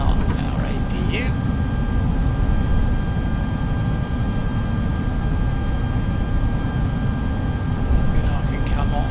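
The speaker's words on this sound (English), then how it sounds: "Disarming the ground spoilers, flaps coming all the way up, and we can start our APU." An auxiliary power unit spools up in an FSLabs A320X flight simulator cockpit, a steady whine with faint high tones riding over a constant low roar, with no breaks for the full stretch.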